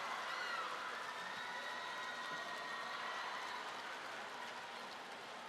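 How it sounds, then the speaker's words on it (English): A distant crowd cheers and applauds from a neighbouring court at a table tennis World Cup event in Macao, a faint, broad, steady roar that holds for several seconds and slowly eases. "Big cheer on the court next door."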